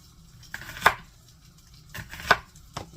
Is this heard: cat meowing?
no